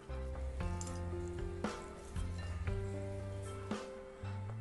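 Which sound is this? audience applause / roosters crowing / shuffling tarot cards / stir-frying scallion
stir-frying scallion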